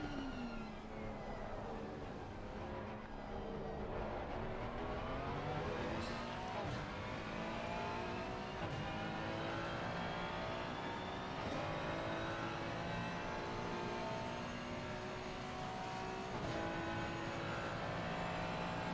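GT3 race cars at Monza in the Assetto Corsa Competizione racing game, engines droning and revving through gear changes, with rising and falling pitch sweeps from several cars running close together, loud and continuous throughout.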